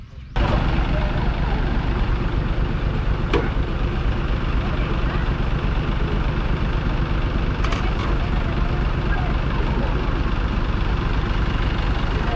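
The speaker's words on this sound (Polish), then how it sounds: "chyba samochód przyjechał" A car arrives and idles on a street in the Philippines, a steady low engine rumble that stays level throughout after a sudden start, with faint clicks and bumps over it.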